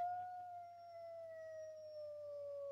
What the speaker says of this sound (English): Oh, wolf howl.